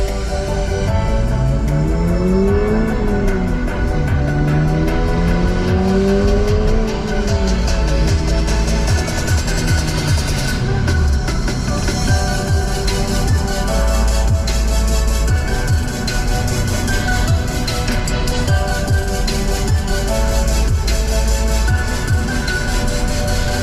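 Music plays continuously through the base six-speaker stereo system of a manual Toyota GR86 sports car, with a full steady mix, strong low end and a melodic line near the start.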